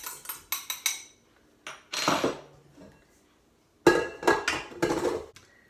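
Butter and sugar being beaten together in a bowl for bear paw cookies, giving bursts of clattering, scraping utensil-on-bowl knocks in three separate spells with short pauses between.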